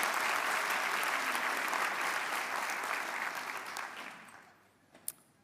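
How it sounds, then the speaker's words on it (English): An audience at a school of healthcare sciences declaration ceremony claps in steady, full applause that fades out over the last second, ending with a single clap. "Give you a round of applause."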